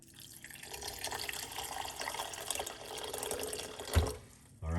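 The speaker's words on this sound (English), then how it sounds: "And pour some hot water on it." Hot water pours steadily into a pot of lemon, garlic and clove tea, a continuous splashing stream lasting several seconds before a brief clunk near the end.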